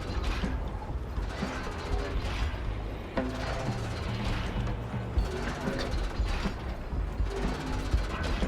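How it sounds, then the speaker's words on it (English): Gears grinding and ratcheting in the video game South of Midnight, a steady mechanical clanking and creaking that runs throughout, with a voice speaking over it. "The gears grind, the hands spin, time starts and starts again."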